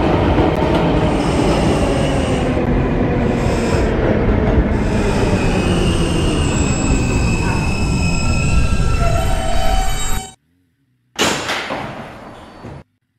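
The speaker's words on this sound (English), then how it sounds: "This is a Myrtle Avenue bound R local train." A Roblox R160B Alstom subway train runs along rails with a loud, continuous rumble and clatter, high wheel squeals rising over it, then cuts out abruptly before a short burst of rail noise resumes.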